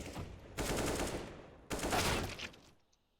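Counter-Strike gunfire lands a pair of headshots in quick succession, two dense bursts of rifle fire about a second apart, loud and close, with the second trailing off into quiet.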